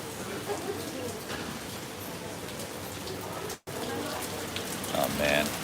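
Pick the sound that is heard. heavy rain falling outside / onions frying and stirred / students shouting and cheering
heavy rain falling outside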